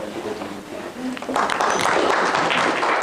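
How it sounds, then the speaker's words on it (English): Audience applause greeting Maurine Smith, President of the DUP, as she is introduced at a talk: murmur first, then a dense steady wash of clapping swelling up and holding. "please, if you would, give a round of applause to Maurine Smith, President of the DUP"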